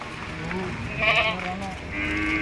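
Goats bleat among a crowd at a livestock market in Pelaihari, with several overlapping nasal calls rising above steady background chatter and people talking nearby.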